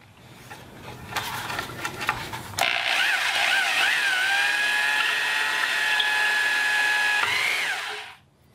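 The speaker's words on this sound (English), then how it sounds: "take the hammer drill out of hammer and drill mode and swap it over to drill only" A hammer drill set to drill-only mode whirs up to a high steady whine, holds for several seconds with slight pitch shifts, then winds down; a few clicks and handling noises before it.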